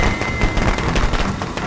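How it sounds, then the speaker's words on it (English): Firecrackers burst in the Friday the 13th video game as a dense, rapid crackle of sharp pops, loud and continuous. "Oh no, firecrackers."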